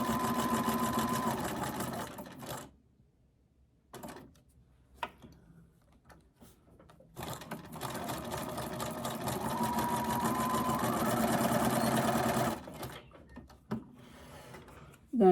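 A sewing machine runs zigzag back stitching on paper tags in a few bursts, a steady rapid whir lasting several seconds at a time with short pauses and clicks between runs.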